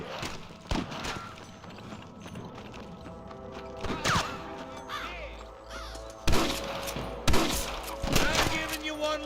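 Gunfire crackles through a shootout at Pike's Basin in the Western game Red Dead Redemption, with sharp shots bursting in clusters over a steady background of ambient game sound, including a few louder volleys near the end.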